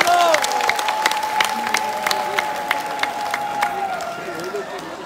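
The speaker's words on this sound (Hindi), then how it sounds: "जिनका नाम नहीं लिया उन सबके लिए भी तालियां बजाओ" Scattered claps rise from a devotional audience at a Gaura Purnima gathering, sharp individual hand claps spread irregularly beneath a sustained voice or tone.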